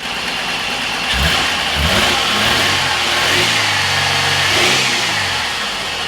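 A Holden Ute engine with a damaged cylinder head revs up and down several times, loud and close, with rising and falling pitch over a steady idle.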